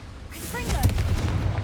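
A Confringo fire spell blasts off in Hogwarts Legacy, a booming, fiery burst with a low rumbling tail that follows a voice calling out the spell.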